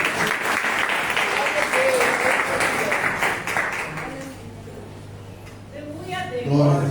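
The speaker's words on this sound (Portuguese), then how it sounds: "Podemos assentar e dar uma salva de palmas." A church congregation claps after a sermon prayer, a broad steady wash of applause for several seconds that thins out, with a voice speaking over and after it.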